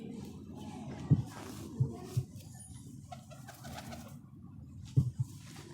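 A pigeon of the Lal Sira, or red-headed, high-flyer breed gives a few soft, low coos over quiet background noise. Faint isolated calls come near the start and again toward the end.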